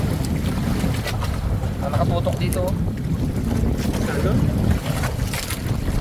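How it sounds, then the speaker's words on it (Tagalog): Strong waves slap and churn around a small boat at sea as a storm approaches, with steady wind buffeting the microphone and a voice speaking briefly over the rough water. "Malakas ang alon."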